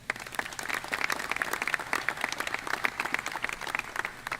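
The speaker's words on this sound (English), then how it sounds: "Let's give a round of applause for them." Round of audience applause at a 2025 IFL National Championship media event in Tucson, for Rio Nuevo and Visit Tucson, a steady moderately distant patter of many hands clapping with distinct individual claps.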